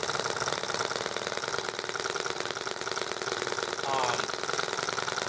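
An EM1 engine idles just after being started, a steady, close, even chugging drone that holds throughout with a brief swell near the end.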